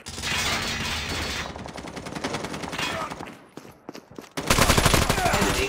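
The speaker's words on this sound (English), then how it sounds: "I got shot!" Rapid automatic gunfire in Call of Duty Mobile during a Team Deathmatch on the Scrapyard map, loud dense rattling bursts that drop briefly and then return even harder near the end.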